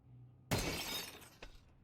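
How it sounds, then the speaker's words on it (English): Glass window shattering during a Counter-Strike match: a sudden sharp crash with a burst of falling shards, then a second smaller break a second later, fairly faint against a quiet background. "Gonna break out that glass, give away his position now"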